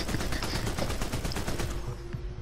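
Rifle fire in the superhero game DC Universe Online: a rapid, evenly spaced string of loud gunshots close up, thinning out at the end.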